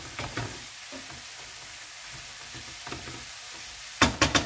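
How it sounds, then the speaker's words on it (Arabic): Small whole-wheat stuffed buns are stirred in a frying pan. There is a soft, quiet sizzle with a few scraping stirs, then a sharper burst of clatter near the end. No voices. "غادي نحركهم دابا"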